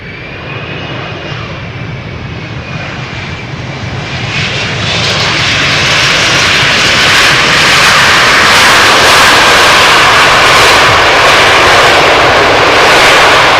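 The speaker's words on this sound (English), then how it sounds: "Another airplane that might get loud." An airliner arrives at Amsterdam Schiphol's Polderbaan runway on a hot, sunny day, its engine roar building from a distant rumble to a loud, sustained, close-passing drone that stays steady to the end.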